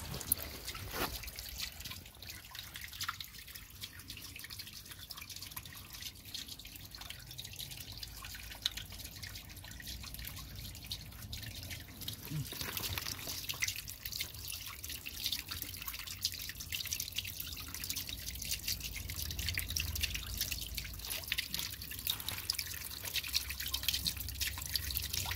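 Water drips and trickles steadily from leaking koi pond pipework, a soft ongoing patter of drops close by with no voices.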